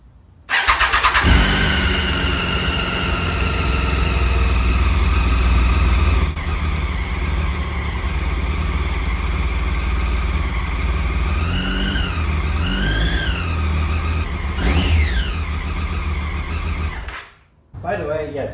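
A Triumph 675 motorcycle engine cranks and fires, then runs loud and steady at a fast idle with a few rising blips of the throttle before cutting off abruptly near the end.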